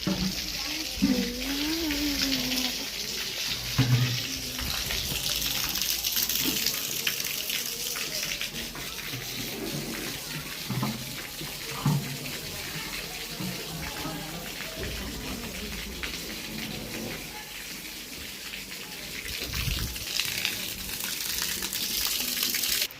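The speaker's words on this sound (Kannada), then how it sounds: "ಈ ನೀರು ಬಂದಾಗ ನಾವು ನೀರು ತುಂಬ್ತೀವಿ" Steady gushing of tap water pouring into a container, continuous throughout, with faint background activity.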